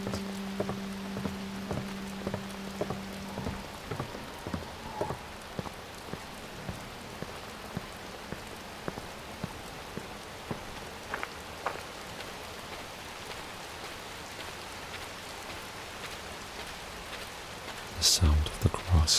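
Night rain in Watch Dogs falls steadily on leaves and grass, a continuous soft hiss with faint regular ticks of drops throughout, a brief tonal hum early on and a louder burst of noise at the very end.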